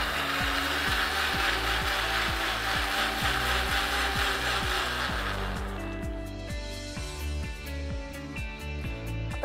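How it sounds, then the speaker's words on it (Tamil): A blender grinds a banana milkshake with milk, its motor roaring loudly with a rhythmic churning pulse before winding down and thinning out near the end. "பால் ஆட் பண்ணியாச்சு, திருப்பி நல்லா அரைக்க போறோம்."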